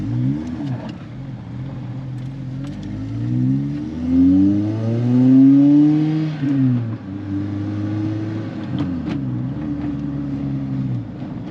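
A Toyota Vibe GT with a 2ZZ engine drives along, its exhaust muffler giving a steady droning hum that rises and falls with engine speed, swelling to a louder climb midway before settling back, heard from inside the cabin.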